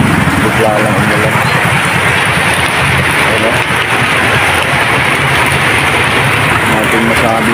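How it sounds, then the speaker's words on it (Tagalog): Heavy sudden rain pouring down in a loud, dense, unbroken roar that fills the whole stretch, with faint voices underneath. "bigla lang umulan"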